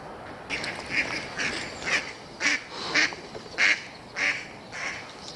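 Ducks on a canal in winter quack in a series of loud, nasal calls at irregular intervals, about ten in all, close by over faint outdoor background noise.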